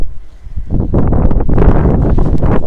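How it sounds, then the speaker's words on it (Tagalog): Strong wind buffets the microphone beside a rice field near a river, producing a loud, steady rumbling roar that builds after a brief lull. "Oops, lakas ng hangin."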